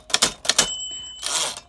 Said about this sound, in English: The issue I'm having is anytime you hit a key, it seems to go to the tab markers rather than like clicking individually.